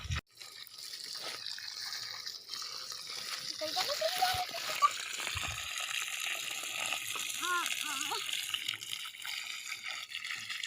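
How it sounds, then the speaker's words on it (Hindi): Water gushing and splashing steadily while lemon plants in an orchard are irrigated during a dry spell, a continuous rush of flowing water with a voice speaking over it partway through. "चलो तो पहले इसको पानी पिला दो।"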